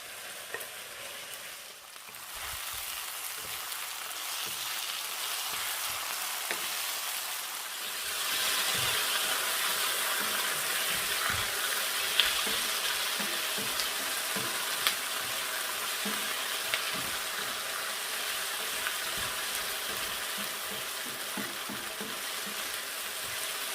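Thawed shrimp dropped into a pan of sautéed onion, a sudden loud sizzle that jumps up after a quieter start and keeps frying steadily with scattered pops and crackles.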